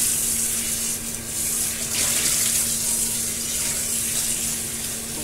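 Meat is washed under a running kitchen tap, a loud continuous hiss of water splashing into the sink with no voices during the stretch.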